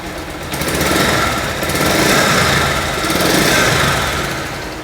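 A Bajaj Pulsar UG-4 motorcycle idles at close range with a steady, smooth, even engine drone that holds constant throughout, with no voices over it.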